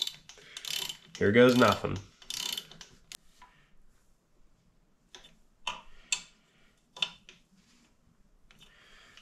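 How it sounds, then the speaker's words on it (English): A torque wrench ratchets on the cylinder head bolts of a diesel trench compactor engine, giving bursts of clicking and ticking with a brief loud mechanical stretch early on and sparse clicks afterward, and a voice speaks briefly. "we should probably go ahead and use an actual torque wrench instead of just winging it with the impact"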